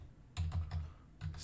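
Fast computer keyboard typing during spreadsheet data entry, heard as a quiet series of soft clicking keystroke bursts in an uneven rhythm over a low room hum.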